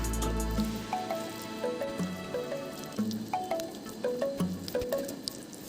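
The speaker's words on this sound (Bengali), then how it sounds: "আর সব কিছু একসাথে ভালো করে মিশিয়ে নিচ্ছি।" Boiled elephant foot yam is mashed together by hand, making soft wet squelches and squishes in a repeated, uneven rhythm, close and quiet, with no talking.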